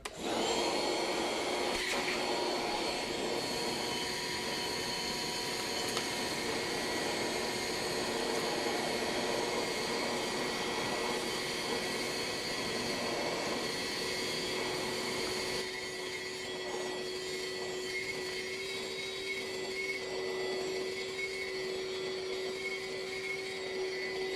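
A RYOBI 18V bucket vacuum, fitted with a filter bag and a 4 amp hour battery, runs continuously with a loud, steady motor whir and airflow hiss close by.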